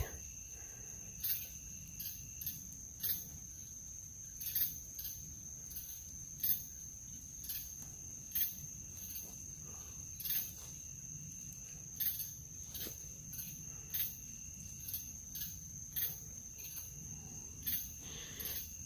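Crickets chirp steadily in quiet woods, a high continuous trill with repeated pulsing bursts every second or so, fairly faint and distant.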